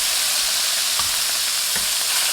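Steak bites fry in a pan with a loud, dense, unbroken sizzle up close and faint thumps from shifting pieces.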